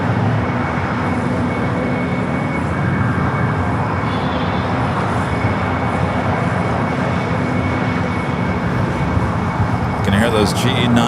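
A Cathay Pacific jet with GE90 engines on a taxiway at LAX, a loud, steady broadband engine roar that holds throughout, with a person talking over it.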